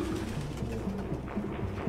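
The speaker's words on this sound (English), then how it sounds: "No human could live with all these fucking pigeons." Pigeons coo steadily in the video game Detroit: Become Human, with layered, throaty calls repeating close by over a constant background hum.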